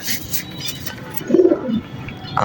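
A male racing pigeon coos briefly in a low, soft burst near the middle, with a faint chirp at the end over steady background hiss.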